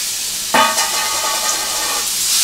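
Pumpkin pieces for kumror halua hit a hot pan with a sudden loud sizzle. The frying then settles into a steady hiss with light stirring, and no voices are heard.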